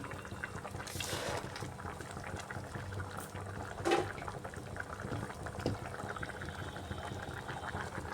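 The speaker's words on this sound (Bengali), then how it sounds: "এবার একটু সময় ফুটে উঠুক" A pan of pointed gourd and potato curry simmers with a faint, continuous bubbling, a low, quiet burble with an occasional soft splash.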